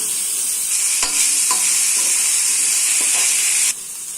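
Onions with ginger garlic paste fry in a pan for vermicelli biryani, giving a steady loud sizzle with a few stirring scrapes, then the hiss drops sharply near the end. No one speaks.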